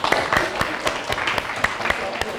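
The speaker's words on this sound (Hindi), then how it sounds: "तालियां" An audience in a hall breaks into applause at a talk, a dense run of many hands clapping, fairly loud and close, holding steady for a couple of seconds.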